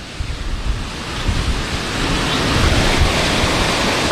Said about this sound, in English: Some heavy rain dropping right now.